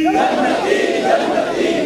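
A large crowd at a Muharram religious gathering shouts a slogan in unison, a loud sustained roar of many voices that fills the whole moment.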